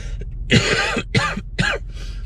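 Three harsh, close coughs from a man with a viral cough in quick succession, with a short throat-clearing sound at the start.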